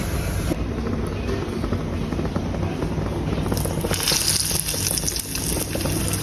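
Kachoris deep-frying in hot oil for a fasting-day snack, a steady broadband sizzling and bubbling hiss that runs continuously throughout, fairly loud and close with no clear talk over it.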